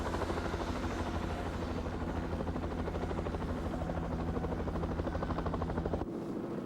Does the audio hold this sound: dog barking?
no